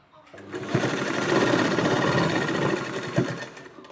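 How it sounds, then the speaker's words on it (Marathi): Sewing machine topstitching a fabric rabbit cap, running as a steady close mechanical whir that speeds up after a short start, with a person talking over it. "तर बघा इथून आपण दापटीप द्यायला सुरुवात करूया"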